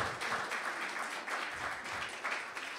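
An awards-event audience gives a woman named Sue another round of applause. Many hands clap in a full, even burst that carries on steadily, heard from some distance in a room.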